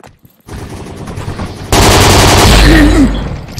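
Assault rifle fire in the 1v1.lol shooter game, a rapid burst of loud, close shots that swells into a dense continuous volley before tapering off.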